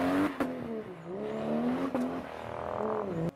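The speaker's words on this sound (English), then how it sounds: "The Mark III was packing the mythical 1JZ engine." A Toyota Mark III with the 1JZ inline-six engine revs hard several times, each climb in pitch broken by a sharp shift or blip, close and loud with no voices.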